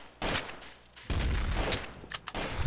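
Gunfire in Trouble in Terrorist Town, a few loud bursts of shots with rumbling reverberation, separated by short lulls and ending in sharp cracks.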